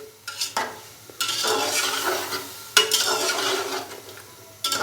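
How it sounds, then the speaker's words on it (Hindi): Chicken pieces and yogurt for an Irani chicken pulao are stirred in a hot pot, bursts of wet sizzling and scraping that swell and fade in waves, with a few short clinks of the spoon, close up and without talk. "दही डालने के बाद अच्छे से मिक्स करेंगे और चिकन को दही के साथ तकरीबन भून लेंगे 5 से 7 मिनट के लिए"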